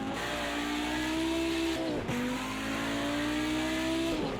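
An Audi Group B Quattro race car in the Project Cars 2 racing game at Bathurst, its engine screaming loud and close as it climbs through gears, with a sharp drop at a shift before it revs up again.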